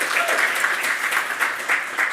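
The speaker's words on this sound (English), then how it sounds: "if you can just clap all the people that never get a clap" Conference audience applauding steadily for just over two seconds, a dense and fairly close patter of many hands clapping at once with no voices over it.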